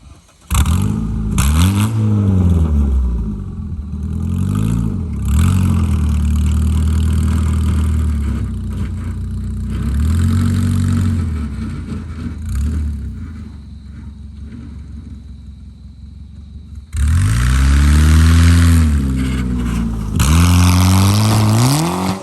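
A car engine idles roughly, then revs up in repeated bursts with rising and falling pitch, loud and close, with a quieter idling stretch before a final strong series of revs.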